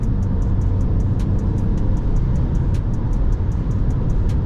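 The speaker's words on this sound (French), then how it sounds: "On va accélérer un petit peu" Mini Countryman SUV heard from inside the cabin while accelerating: a steady, close engine and road rumble with a faint regular ticking above it, and no voices.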